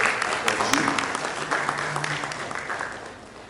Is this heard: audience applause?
yes